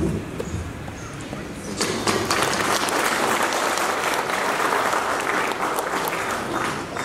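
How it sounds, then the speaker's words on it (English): Audience applause at an award distribution ceremony for successful candidates, a dense crowd clapping that swells after a quieter start and holds steady and loud for several seconds. "Let's all give all these successful candidates a big round of applause."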